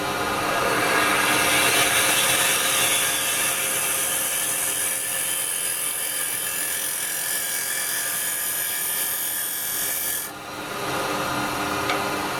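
A carbide tool cuts a small wooden bowl spinning on a lathe, giving a steady, close, loud rasping hiss that dips briefly near the end before resuming.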